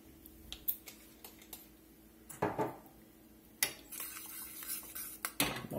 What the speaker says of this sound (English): I'm going to get my itty bitty whisk. We're going to get this mixed up here a little bit.